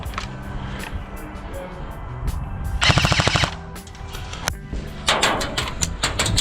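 Two rapid, rattling bursts from an airsoft machine gun fired on an indoor CQB field in Sweden, sharp and close, with voices and movement around the shots.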